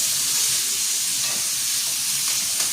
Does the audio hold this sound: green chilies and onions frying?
yes